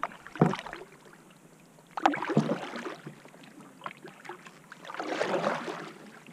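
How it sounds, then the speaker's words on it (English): Paddle strokes from an Old Town Discover canoe on Waldo Lake, Oregon: three separate splashing pulls of water, close and distinct, with quiet gaps between them and no talking. "Let's paddle around it."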